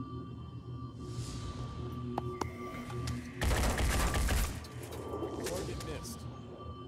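Gunfire in the PC tactical game Phoenix Point: a dense burst of shots erupts midway and lasts about a second, set against steady game ambience and lighter sporadic sounds.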